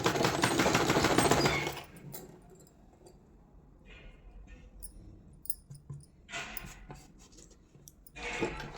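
An electric sewing machine stitches a blouse lining in loud, rapid mechanical bursts. A long run opens the passage and shorter runs follow, with quieter handling gaps between them.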